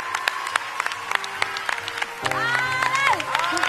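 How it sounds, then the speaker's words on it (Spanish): An audience applauds Adal Ramones at a televised La Academia finale, scattered claps building into fuller clapping and cheering, with a voice calling out over the crowd. "El aplauso para Adal Ramones"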